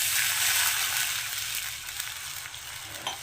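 Water poured into a pan of lightly fried raw potatoes sets off a loud, steady sizzling hiss that fades slightly as it settles.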